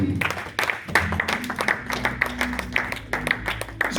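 Congregation clapping and cheering in a church service, a steady rhythmic patter of many hands with faint voices mixed in, fairly close and sustained throughout.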